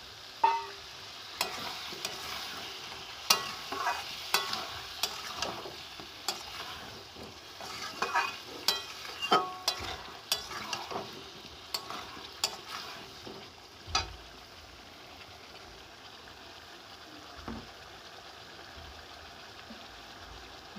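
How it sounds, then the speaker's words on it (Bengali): Spice paste and potatoes fry in a pan for katla fish curry, a low sizzle under repeated scraping strokes of a spatula stirring at an uneven rhythm, fairly quiet and close. "মশলাটা ভালো করে আলুর সাথে কষিয়ে নেব"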